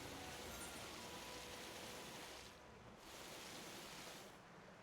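River water flowing in the Final Fantasy XIV video game makes a soft, continuous wash, briefly dipping in level partway through before swelling back, with no talk.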